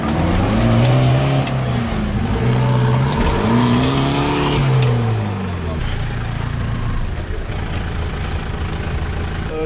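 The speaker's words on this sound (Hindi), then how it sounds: "झटका थोड़ा जोर से मारना पड़ेगा क्योंकि हैवी गाड़ी है।" A heavy 4x4 offroad vehicle revs hard on a rough track, its engine swooping up and down in repeated surges before settling into a rougher, lower drone.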